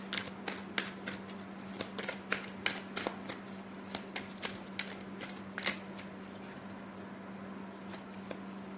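Oracle cards handled and shuffled at close range, giving a quiet run of crisp, irregular papery clicks and flutters that thin out toward the end, with no talking.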